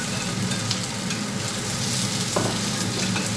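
Chopped onions, garlic and sliced ginger cooking over low heat in a hot pan, a continuous soft sizzle and crackle with a brief stir scrape near the end.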